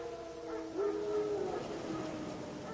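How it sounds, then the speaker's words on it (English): Wild dogs in The Witcher video game give a faint, distant howl, one drawn-out wavering cry rising out of a quiet, hissy background. "Wild dogs. Yes. More dangerous than wolves."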